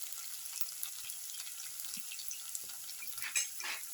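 Okra pieces fry in hot oil with a steady crackling hiss, faint and close, with a few sharper pops near the end.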